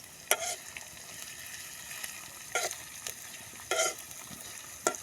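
Garlic sizzles softly in a pan while a spoon stirs it in several short scraping bursts, close and fairly quiet, with no talking.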